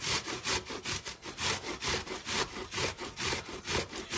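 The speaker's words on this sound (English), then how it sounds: "So I just get my little box grater out here and then I grate." Onion grated on a box grater over a ridged cutting board, a close, quiet series of rhythmic rasping strokes, about three per second, repeating evenly throughout with no talk.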